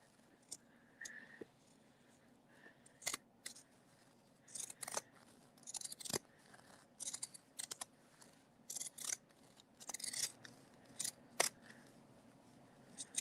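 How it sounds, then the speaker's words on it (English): Pinking shears by Famore snip through fabric in short, crisp bursts of cutting, a scattered run of a dozen or so close, fairly quiet crunches with small pauses between them. "if you don't have a good pair of pinking shears, these are definitely good ones"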